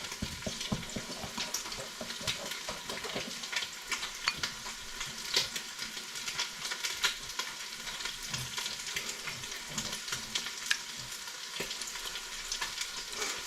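Soy sauce and tomato ketchup stirred together in a hot pan for Peking-style Chinese ribs, a steady quiet sizzle with faint scraping stir strokes running throughout, no voices.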